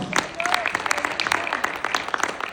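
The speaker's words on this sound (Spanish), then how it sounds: "Le dan palmas de alabanza al Señor, hermanos." A church congregation at a pastors' conference claps in praise, producing quick, uneven bursts of applause that stay close and moderately loud throughout.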